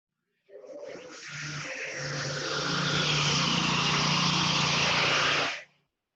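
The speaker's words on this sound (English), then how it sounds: "Was that a lawnmower?" A lawn mower runs nearby at a residential housing site, a loud steady engine drone that swells in over a few seconds, holds, then cuts off abruptly.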